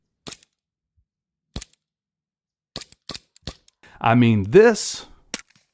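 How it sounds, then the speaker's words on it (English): Several quiet suppressed pistol shots, each a brief, sharp crack with long silent gaps between them, and someone speaking briefly in between. "almost sounds like a very quiet Hollywood suppressor sound effect"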